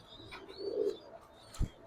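Pigeons coo softly and close by, with a short low burst and a faint chirp near the end, and no one speaking.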